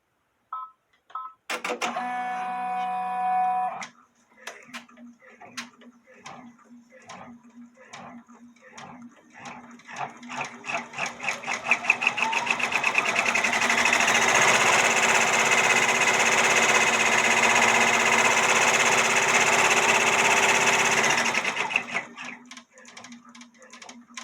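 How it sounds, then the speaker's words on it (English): An embroidery machine sews the placement stitch for a fishing pole applique on a bodysuit, starting with a few short bursts, then a steady rapid stitching rhythm that builds and runs continuously before stopping, close and clear. "next we will do the placement stitch for the fishing pole"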